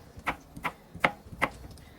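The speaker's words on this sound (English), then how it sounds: "I'm still chopping" A kitchen knife chopping potatoes on a cutting board, four distinct close sharp knocks at an uneven rhythm over a quiet background.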